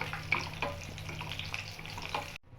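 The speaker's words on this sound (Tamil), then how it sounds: "இப்போ முந்திரி பருப்பை போடுவோம். போட்டு நல்லா நெய்யில் வறுப்போம்." Cashews frying in hot ghee for a bread halwa, a close, steady sizzle with light stirring, cutting off abruptly near the end.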